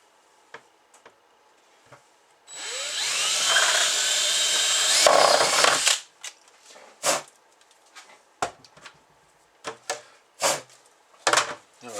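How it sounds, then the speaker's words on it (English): A power drill whirs steadily for about three seconds drilling a hole in a gravity water treatment filter, loud and close, then stops, followed by scattered clicks and clatters of handling. "so I am going to drill there"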